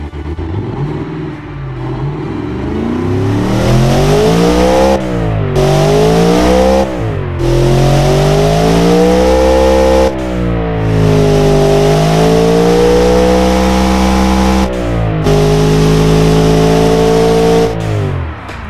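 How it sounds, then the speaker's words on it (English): A turbocharged 7.4-litre big-block pushrod V8 with dual four-barrel carburettors revs in a video game, loud and close, climbing and holding high revs with brief drops between repeated pulls. "It's a turbocharged dual 4 barrels pushrod V8."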